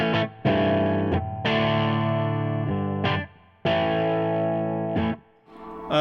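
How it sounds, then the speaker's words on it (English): Electric guitar driven through a Fender Super-Sonic 100 amplifier on a distorted channel plays sustained, saturated chords that ring out, with brief breaks between them, loud and alone. "this amp will actually get pretty distorted on this channel"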